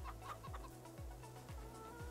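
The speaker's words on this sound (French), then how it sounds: "Attendez, nos poules, elles graillent ou quoi là?" Chickens cluck softly on a farm in a video game. Short clucks repeat in a steady rhythm, about two each second, beneath a low droning background, with no voices.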